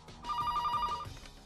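An old telephone bell rings in one short burst of rapid trilling, moderately loud and clear in a quiet room.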